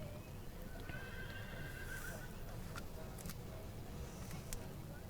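A show horse moves at an Irish amateur showing championship, its hooves clip-clopping steadily while a distinct whinny rises early on. The sounds come from a distance and stay fairly faint over constant arena background noise.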